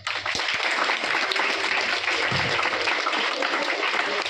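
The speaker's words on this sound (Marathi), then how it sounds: "या दोन व्यक्तींसाठी अगोदर जोरदार टाळ्या" An audience at a liquid nitrogen science show for National Science Day at a Pune university claps loudly and continuously, a dense, steady applause that fills the whole stretch with a faint voice beneath.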